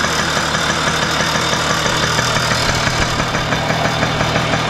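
A restored vintage kids' ATV engine runs steadily at idle close by, a continuous loud putter with a faint knocking rhythm and no talking.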